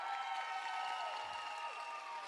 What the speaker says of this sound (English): We need to cheer just as loud for them.